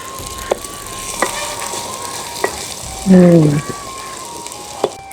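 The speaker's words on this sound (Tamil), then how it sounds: "நல்லா வதக்கிட்டு காய்ச்சிடுவோம் கருவேப்பிலையும் போடுவோம் போடி வதங்கட்டும்" Curry leaves sautéing in a clay pot for a fish curry sizzle steadily at close range, with a brief louder crackling burst midway and a few sharp taps from a utensil against the pot.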